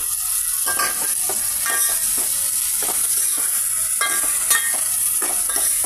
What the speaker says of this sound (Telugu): ఆయిల్లో పెద్దలిపాయ పీసెస్ ఫ్రై చేసామండి. అందులో టమాటా పీసెస్ యాడ్ చేసామండి